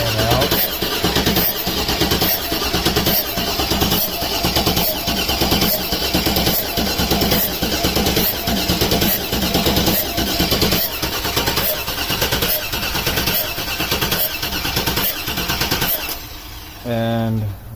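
A 2002 Chevrolet Tahoe 4x4 with a 5.3L engine cranks steadily in a rapid, rhythmic churn, loud and close, for most of the stretch before stopping near the end.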